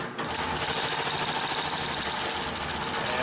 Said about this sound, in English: as you can see, we can sew right over 20 layers